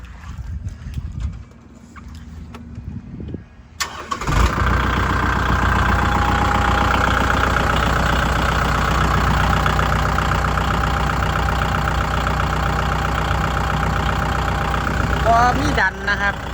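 A Kubota 50 hp farm tractor engine kicks in after a few seconds of quiet with voices. It then revs and holds a loud, steady rumbling drone close by until the end.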